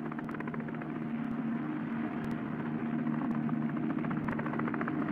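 Helicopter carrying an Army divisional commander flying into a shrinking perimeter, a steady loud rotor throb with a continuous engine drone and faint rhythmic blade chop throughout, no voices.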